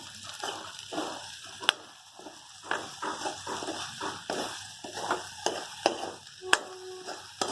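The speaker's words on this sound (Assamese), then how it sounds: "ৰাজমাহ ভেন্দি আৰু স্কচ ভাজি" Rajma, okra and squash frying together in a pan, a continuous sizzle broken by repeated clinks and scrapes of a spoon stirring against the pot, close and fairly busy.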